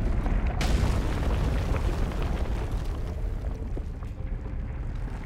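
Game explosion in Kingdom Two Crowns during a blood moon attack: one sharp burst near the start, then a long, loud rumbling roar of blasts and debris that slowly fades.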